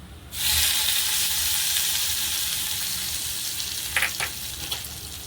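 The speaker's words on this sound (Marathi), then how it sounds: "आता आपला कढीपत्ता आणि मिरची चांगली सडसडली" Curry leaves and green chillies sizzle loudly in hot oil in a pan, a steady bright crackle from start to finish with a couple of sharper pops near the end.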